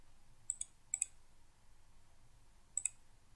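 A computer mouse clicks crisply and close in the ArcGIS program, with two quick double-clicks followed after a pause by another double-click, set against a faint low hum.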